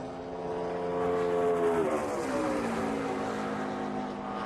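Race cars pass on the track during a NASCAR Contender Boats 300 practice session. A steady multi-engine drone swells and then shifts pitch as the cars go by, without voices.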